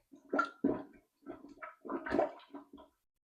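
Short, small plunger pumps work water in a clogged toilet bowl, giving a series of wet, gurgling squelches in quick bursts, close and fairly loud, with no talking.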